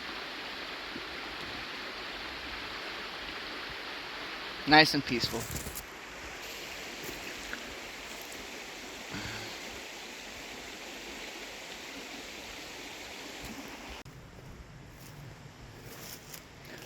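A creek flows steadily nearby as a continuous broadband wash of running water, with a brief splash or knock about a third of the way in and a person speaking softly over it.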